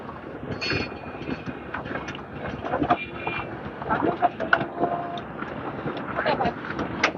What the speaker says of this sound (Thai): เป็นรถไฟฟ้าจริง